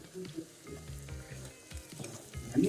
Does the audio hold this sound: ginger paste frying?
yes